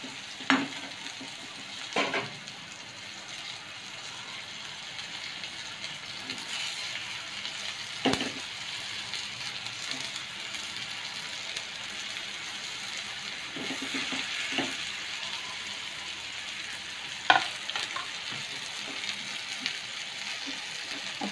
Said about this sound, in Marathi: आता ही वांगी आहेत ह्या फोडणीमध्ये सोडूया.